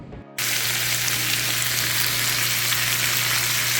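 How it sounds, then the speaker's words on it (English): Cheese sizzling and frying in a hot skillet, a loud steady crackling hiss that starts abruptly after a brief quiet moment and continues unbroken, with no talking. "My cheese is sizzling in the skillet."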